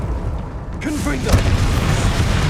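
A Confringo fire spell blasts in the Hogwarts Legacy video game, a single booming burst that lands right after a short spoken call over steady game ambience.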